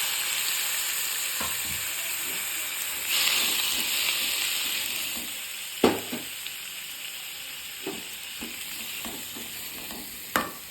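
Onions and tomatoes sizzle steadily in a hot pan for a potato sagu, a close, continuous frying hiss broken by a few sharp stirring clicks and scrapes.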